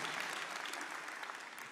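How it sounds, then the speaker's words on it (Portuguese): Brief burst of applause from a church congregation for Moisés, a steady wash of many hands clapping, faint and distant. "Vamos dar uma salva de palmas ao Moisés"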